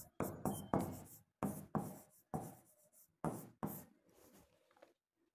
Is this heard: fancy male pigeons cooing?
no